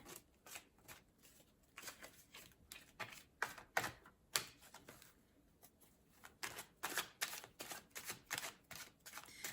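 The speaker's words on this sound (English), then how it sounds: "One more shuffle" Tarot cards are shuffled in quick, crisp riffling bursts, close and fairly quiet, with short pauses between rounds.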